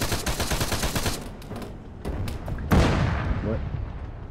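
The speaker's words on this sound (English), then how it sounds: "Tank fire." Heavy gunfire crackles in rapid bursts in the military video game Arma 3, then a louder booming tank cannon shot rolls out partway through, with a voice talking over the fighting.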